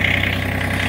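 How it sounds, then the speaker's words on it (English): A Massey Ferguson 2326 tractor engine idles steadily at close range, a continuous low mechanical rumble through a very short stretch. "Once you got everything hooked up, what I like to do is we'll fire the tractor up here."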